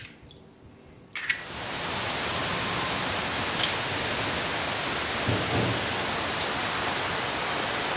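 Heavy rain pours down steadily in a dense, hissing roar that swells in after a quiet second and keeps going with no letup.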